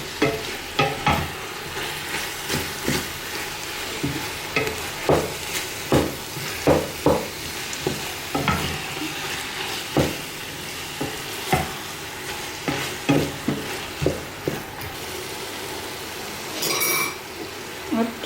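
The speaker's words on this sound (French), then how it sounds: "On mélange le tout." Ground meat stirred in a frying pan, with a low sizzle under repeated scraping and clinking strokes of a utensil against the pan in an uneven rhythm and a brief burst of louder frying near the end.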